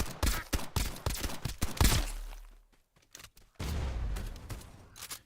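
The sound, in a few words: SMG gunfire in a video game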